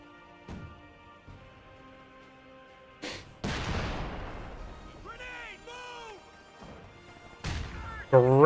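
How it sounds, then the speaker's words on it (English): Frag grenade blast in Company of Heroes 2, a sharp crash followed by a rumbling decay amid distant battlefield gunfire and impacts, with a commentator's voice talking over the action. "Great frag grenade there."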